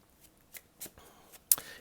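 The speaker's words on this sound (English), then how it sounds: "when there are moments of silence, when I'm perhaps shuffling the cards" Tarot cards being shuffled: a few faint, scattered papery snaps and flicks in a quiet room, with one sharper, louder riffle near the end.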